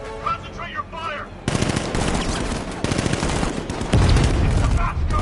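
Rapid gunfire bursts in a Batman video game, loud and dense automatic shots layered over game music and effects, with voices shouting commands in between.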